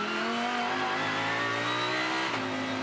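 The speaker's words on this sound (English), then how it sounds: "Still that Lamborghini looking quite settled there through turn 1. Early on the throttle pickup again." Lamborghini GT race car at Sydney Motorsport Park, engine howling steadily as it accelerates out of a corner with rising pitch, loud and close, a brief gear shift near the end, no talk.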